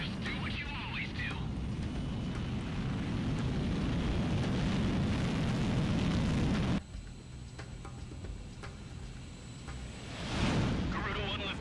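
Fighter jet takeoff in the Ace Combat 6: Fires of Liberation video game: a loud, sustained broadband engine roar that builds and then cuts off abruptly partway through. A quieter rumble follows, with voices heard briefly near the start and end.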